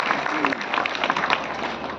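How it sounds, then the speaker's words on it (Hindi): An audience at a speaking event applauds, a dense, brief wash of clapping heard close with a murmur of voices underneath. "जोरदार तालियां बजा दीजिए"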